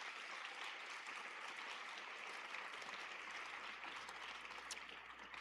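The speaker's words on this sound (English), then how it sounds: "So let's give them a round of applause" Applause from the audience at a regional robotics competition, a dense, steady wash of many hands clapping at a distance that holds evenly for several seconds with no talk over it.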